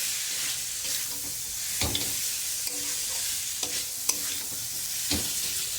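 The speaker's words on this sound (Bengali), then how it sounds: "এবারে দিয়ে দেবো সরু সরু করে কুচিয়ে রাখা আলু দিয়ে ভালো করে আলুটা মশলার সাথে কষিয়ে নেবো" Thin-cut potatoes sautéing with spice paste in a pan for a spicy shrimp and potato curry give a steady, close frying hiss, with a few scraping stirs breaking through and no voices.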